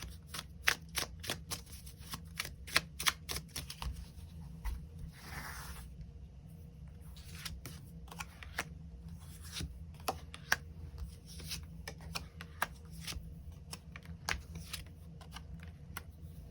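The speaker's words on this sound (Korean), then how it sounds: "추가 카드 뽑아보도록 하겠습니다" Tarot cards are shuffled and drawn in a quiet room, with repeated crisp riffling flicks and soft slaps coming close and faint, spread irregularly across the whole stretch.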